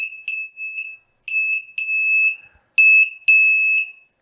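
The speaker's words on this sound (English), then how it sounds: "so this active buzzer is really loud" Loud, piercing electronic beeps from an Arduino-driven active buzzer come in a stuttering pattern of short and sustained tones separated by brief silences.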